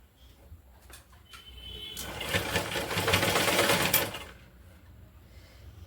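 A sewing machine stitches a doormat made from joined waste cloth, its motor whirring up into a steady fast rattling run for about two seconds before slowing to a stop.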